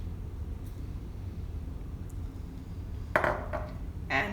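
A metal saucepan clinks and scrapes on a stovetop while custard cooks over medium heat, with a few brief close knocks against a quiet background.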